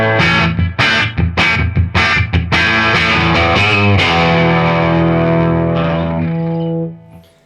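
A Gibson SG with P90 pickups plays through a Marshall clean channel pushed into loud distortion: a run of choppy, rhythmic chord stabs gives way to a long sustained ringing chord that fades out at the end.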